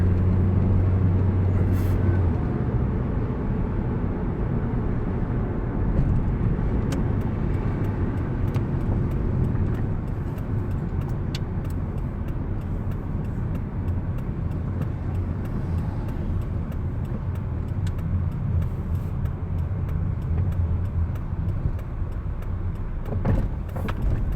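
Car traffic idles and rolls past at a drive-through line: a continuous low engine rumble and road noise, fairly loud and steady, with faint clicks and no clear speech.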